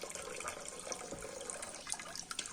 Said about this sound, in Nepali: अब यहाँ पाइपमा पानी सप्लाई गरिरहेको छौँ हामीले चाहिँ